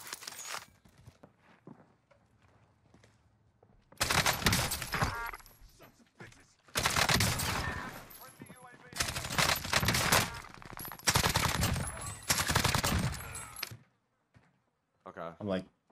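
Bursts of rapid automatic gunfire in the Warzone video game, several loud sustained volleys separated by quieter gaps with footsteps, ending in a short final burst; a player talks at times.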